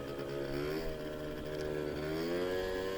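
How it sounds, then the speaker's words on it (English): A 50cc scooter engine idling unevenly, a steady buzzing drone with a slightly wavering pitch, running alone at moderate distance. "The scooter runs very unevenly."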